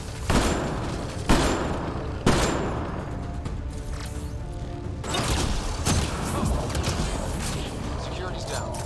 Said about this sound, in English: this is real nice with the sniper rifle